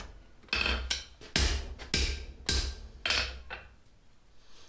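A blacksmith hammers a hot bit to upset it while forging split bar tongs, striking about six ringing, close blows at a steady pace with brief pauses between them.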